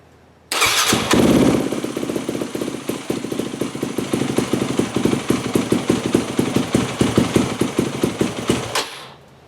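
A Yamaha WR250F dirt bike with a hot start plunger fires up after a short crank and settles into a loud, close, slightly uneven idle that runs for about eight seconds before cutting off.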